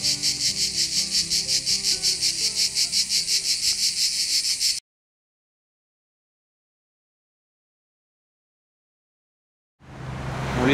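Cicadas in Occitanie, near the Clape massif, buzz loudly in a steady pulsing rhythm, then cut off abruptly into silence before the chorus swells back in.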